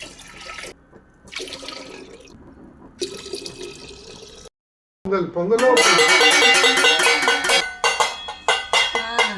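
Water being poured into a pot for making sweet Pongal, starting with quieter trickling and splashing, then after a brief silence a louder, bright continuous pour with bubbling and gurgling close by.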